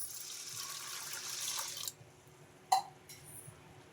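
Drinking water poured over washed moong dal in a bowl to soak it, a steady close splashing pour for about two seconds, then quiet with a single sharp clink and a few faint handling sounds.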